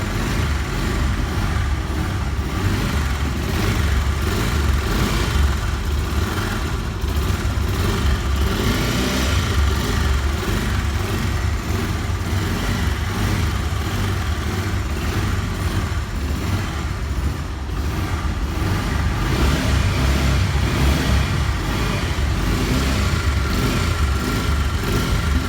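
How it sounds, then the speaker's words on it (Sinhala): A Bajaj Pulsar 150 motorcycle engine runs at a steady idle close by, a continuous loud low rumble lasting throughout with no voices. "එහෙනම් බලන්න මේක ස්ටාර්ට් කරලා කොහොමද සද්ද එන්නේ?"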